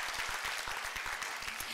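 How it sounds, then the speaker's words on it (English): Applause from the audience at a school board session honoring student winners, a quiet, somewhat distant patter of clapping with individual claps audible, steady throughout. "Let's give them one more round of applause."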